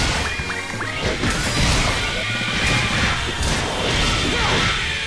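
Repeated crashing and smashing of pottery in the video game Sonic Unleashed, several loud breaking impacts in quick succession over busy game noise.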